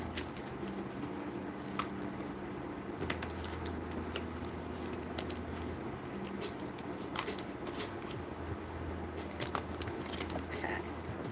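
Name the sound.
shuffling tarot cards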